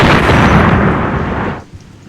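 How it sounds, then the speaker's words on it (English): A buried mine detonating in Hidden & Dangerous Deluxe, a single loud, close blast that roars broadly and then decays over about a second and a half into a quiet tail. "that mine was so poorly dug, and it was buried at an angle that the explosion went that way and not upwards"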